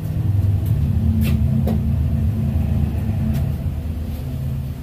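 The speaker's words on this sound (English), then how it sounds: "It was a hot rod driving by outside." Hot rod car passing by outdoors, a steady low engine rumble heard from a distance that holds for several seconds and slowly fades, with no voices.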